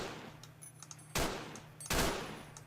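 Automatic weapon fire in the video game Fallout New Vegas: two loud, sustained bursts about three-quarters of a second apart, each fading quickly over a low background hum.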